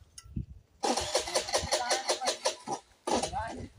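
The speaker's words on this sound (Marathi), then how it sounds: "तरी पण चालू नाही होत आहे गाडी." A car's starter cranks the engine in a long run of rhythmic churning pulses without catching, stops briefly, then cranks again; the sound is close and moderately loud.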